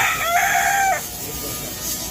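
A chicken at a heritage site in Port Royal, Jamaica gives a loud, close call lasting about a second, then quiet outdoor background.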